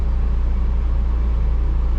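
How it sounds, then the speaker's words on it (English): A truck engine idles steadily while warming up, a loud, even low-pitched rumble with a constant rhythmic pulse, close to the microphone and without voices. "I let my car warm up a little bit. My truck, rather."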